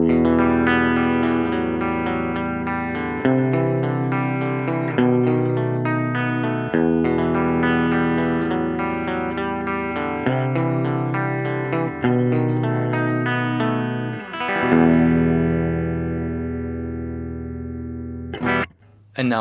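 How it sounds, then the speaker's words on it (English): Electric guitar played dry with no tremolo effect, a sequence of sustained chords and picked notes ringing clearly and steadily at moderate level, with no pulsing in volume, ending on a brief final strum. "Here's the guitar without the effect."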